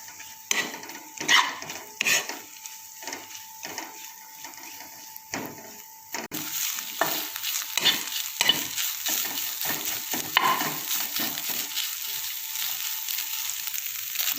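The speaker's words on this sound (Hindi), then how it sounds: "तकरीबन 1 मिनट जो है वो चिकन को मैंने फ्राई किया" Chicken fries in a pan for resha kabab, with a close sizzle broken by repeated scraping stirs and clatters, the frying growing louder and more constant in the second half.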